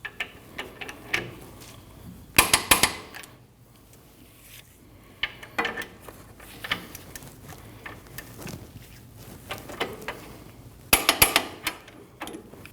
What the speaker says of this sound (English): Now you can torque those two bolts down to 111 foot-pounds.